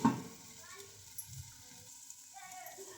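Okra (bhindi) cooking in a covered pan gives off a soft, steady low sizzle. Quiet kitchen clatter and faint background sounds sit over it.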